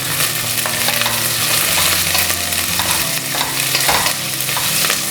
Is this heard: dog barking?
no